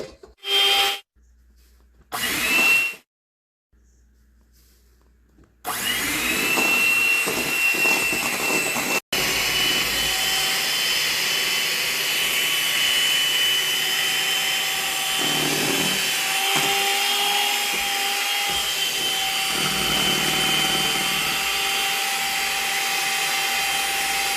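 An electric mixer whips sugar into egg whites for a pavlova meringue, a steady loud whirring drone that starts abruptly after a few short bursts and runs continuously without talk.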